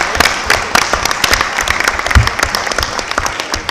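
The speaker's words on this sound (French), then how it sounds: "on va partir du principe que ces applaudissements valent l'unanimité" Applause from attendees at a municipal council meeting in Gournay-sur-Marne, a steady crowd of hand claps filling the room, fairly loud and continuous throughout with no talking over it.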